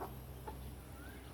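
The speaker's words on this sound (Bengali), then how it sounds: "মুরগি" A chicken clucks faintly in one short burst over a steady background hum, while someone nearby calls it over to eat fish.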